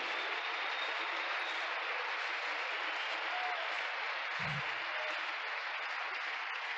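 Church congregation applauding during an apostle's sermon on spiritual pre-existence, a steady, even wash of clapping that holds for several seconds with a brief low thump near the end.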